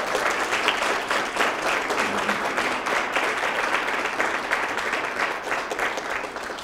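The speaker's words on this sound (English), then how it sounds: "I think they all deserve an enormous round of applause." Sustained audience applause fills a hall after a university three-minute thesis competition, dense steady clapping from a large crowd, loud and continuous throughout with no speech.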